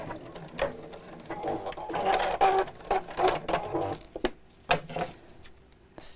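A sewing machine runs in short bursts of stitching with pauses between, close and moderately loud, with faint clicks as fabric is turned while making a Maddy Caddy.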